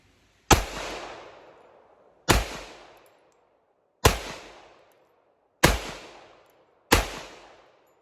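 An FN FNX-45 Tactical pistol fires five single-action shots at a range, each a loud, sharp crack with a ringing decay, spaced roughly one and a half seconds apart, with no voices.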